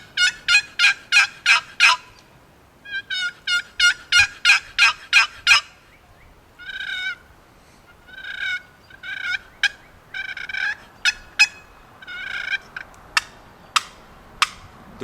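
A turkey box call made of American chestnut with real wormholes plays a high-pitched, raspy hen call. Close and loud, the yelps come in quick rhythmic runs of five to ten strokes separated by short pauses, with no talking.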